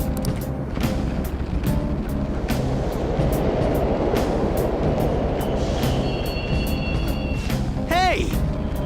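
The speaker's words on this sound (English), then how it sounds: "The trains totally are running." Subway train running through a station platform in the video game Persona 5, a steady loud low rumble throughout with a brief squeal near the end, while people talk over it.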